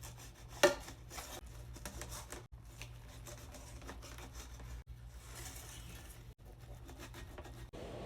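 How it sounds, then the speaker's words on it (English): A knife slices a pan-seared egg into strips, making soft, faint cuts and rubbing on a board in a loose rhythm, with one sharper knock early on. "Next, we're gonna cut this up into strips."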